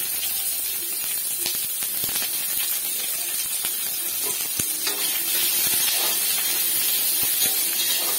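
Mustard seeds hit smoking-hot oil for tempering a potato curry, giving a steady loud hiss and sizzle with scattered crackling pops throughout.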